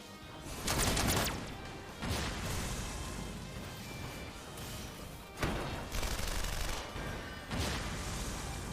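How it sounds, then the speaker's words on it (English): Repeated explosions in a Final Fantasy XIV battle: four loud, broad blasts at uneven intervals, each followed by a crackling rumble that carries on through the gaps, with no voices over the din. "there's more of these things exploding"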